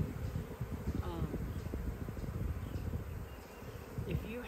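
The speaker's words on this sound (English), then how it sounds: "There's a lot of bees emerging right now too." A dense, steady buzzing of many honeybees in an open hive, close up, with occasional rustling and handling noises.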